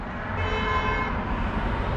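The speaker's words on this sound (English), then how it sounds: "People are honking at each other." A car horn sounds as a long, steady honk over an evening street with low traffic rumble beneath it, and nobody speaks.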